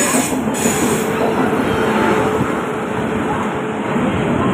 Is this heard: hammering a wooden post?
no